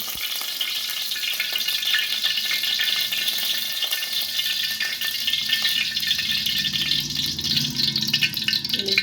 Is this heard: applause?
no